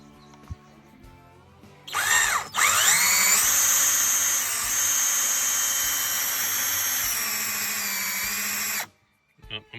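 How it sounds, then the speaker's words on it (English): A power drill drills holes in PVC, spinning up with a rising whine, then holding a loud, steady high-pitched drone for about seven seconds before cutting off. "So what I'm gonna do is drill the holes,"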